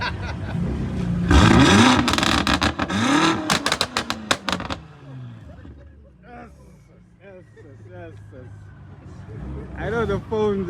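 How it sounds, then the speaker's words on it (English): Loud cars rev hard nearby, a burst of rising and falling engine roars with rapid throttle blips, then fading to quieter idling and distant revs before another engine swells near the end; people talk in between. "These cars are very loud."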